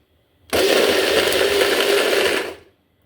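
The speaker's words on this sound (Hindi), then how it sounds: "हैंड ब्लेंडर है, चॉपर है और बीटर है।" An electric hand blender whirs steadily at high speed for about two seconds, starting and stopping abruptly, loud and close.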